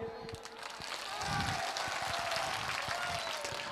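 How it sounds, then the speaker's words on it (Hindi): Crowd at an AIMIM political rally in Kishanganj, Simanchal, Bihar clapping steadily in a dense, sustained wash, with scattered voices and some low thumps mixed in. "तो एक बार अपने आप के लिए ताली बजाइए।"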